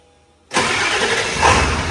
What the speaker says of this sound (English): Start this rig up